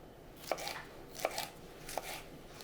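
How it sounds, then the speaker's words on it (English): A knife cuts yellow and red peppers into strips on a board, giving four crisp, evenly spaced chops heard up close against quiet room tone, with no talk. "I'm just gonna do strips of peppers."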